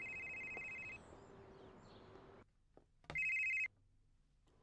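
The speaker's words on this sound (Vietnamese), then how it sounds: "Để em đi nghe điện thoại." A telephone rings in two bursts, the second louder and nearer, in an indoor home scene with faint background noise between the rings.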